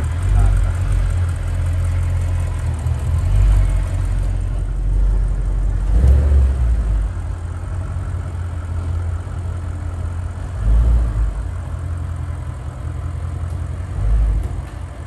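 An Audi RS6 engine runs in a steady low rumble with an odd underlying noise, swelling briefly in revs around the middle and again near the end, close and loud.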